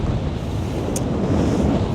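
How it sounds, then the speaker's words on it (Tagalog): Strong wind roars and buffets against the microphone on a cliff at Panorama Park in Bakersfield, in a constant low rumble, loud and unbroken for the whole stretch. "Ayun guys, sa sobrang mahangin."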